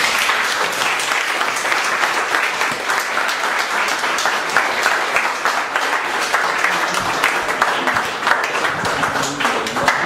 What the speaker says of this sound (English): Can we have a round of applause for all of you?